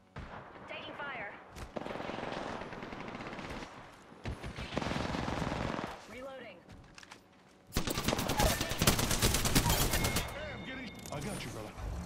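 Loud bursts of automatic gunfire crackle in a squad-based battle royale video game, with rapid volleys and a heavy sustained barrage near the end, while players' voices talk over parts of it.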